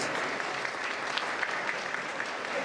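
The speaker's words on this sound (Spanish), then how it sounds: "Un fuerte aplauso, gracias." An audience at a university tribute to Ismael Serrano, at the Universidad Nacional de Avellaneda, applauds: a steady, dense wash of many hands clapping at moderate distance, with no voices over it.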